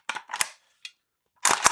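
A VFC AKS74U gas blowback airsoft rifle cycling without a BB gives a few close, sharp mechanical clacks. Two quick clatters come first, then a faint click, then a louder double snap after a pause, with no voices.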